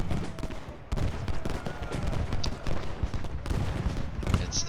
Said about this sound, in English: Nichols getting hammered, absolutely hammered with canister fire and rifle fire